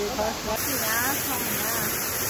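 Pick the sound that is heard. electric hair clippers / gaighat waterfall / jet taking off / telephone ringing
gaighat waterfall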